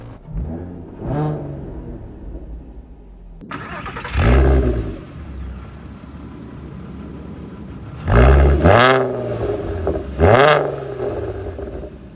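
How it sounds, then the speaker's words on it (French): A 2000 Volkswagen New Beetle RSI started by push button, the engine cranking and catching with sharp revving bursts, then several loud, close throttle blips with roaring rises and falls. "c'est la première Volkswagen à avoir un démarrage par bouton"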